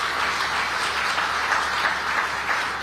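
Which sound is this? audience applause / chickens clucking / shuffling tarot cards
audience applause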